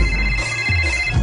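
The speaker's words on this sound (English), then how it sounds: "Let's call her. It's ringing." A telephone rings on a call, a steady electronic tone with a low buzz beneath it, loud and close and without pause.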